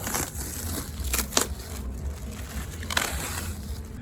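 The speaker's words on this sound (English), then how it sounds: "So I'm going to peel this plastic off and finish cutting out the rest of the tiny letters" Plastic sheeting is peeled off the transom of a wooden boat, giving close crinkling and crackling with a few sharp tearing bursts, no talk.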